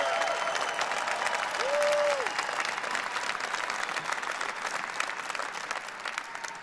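Sustained applause and cheering from a large rally crowd, a steady dense wash of clapping that runs the whole time, with a brief tonal whistle-like sound partway through.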